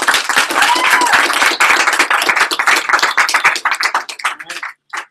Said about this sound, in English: Let's give a big round of applause, Mr. Taylor Max, for coming.